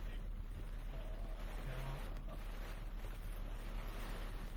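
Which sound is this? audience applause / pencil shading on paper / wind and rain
wind and rain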